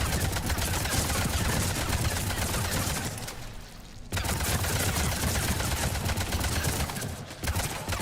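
Rapid weapon fire in Mass Effect Legendary Edition, a dense, continuous stream of shots that stops briefly around the middle and then resumes just as loud, with no talking over it.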